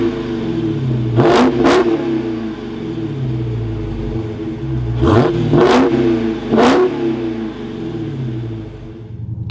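A Dodge Charger SRT Hellcat Widebody V8 starts up with a loud rumbling idle, then gives several sharp throttle blips in two clusters, each rev rising and falling quickly, close by and with no talk.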